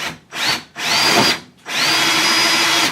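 A power drill bores a pilot hole in an aircraft cowl for a Piper Super Cub Widebody, giving three loud, close bursts of whining motor noise. The first burst is short, the other two longer, each separated by a brief pause.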